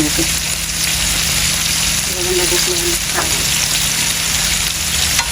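Shrimp frying and being stirred in a pan, a continuous, near sizzle with faint scraping; a voice speaks briefly under the cooking noise.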